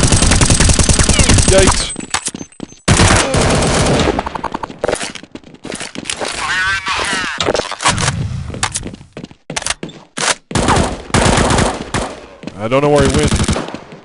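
Loud, rapid automatic gunfire in Counter-Strike 1.6 on the de_inferno map, arriving in dense bursts with brief gaps between them, up close and dominating a player's startled spoken reaction.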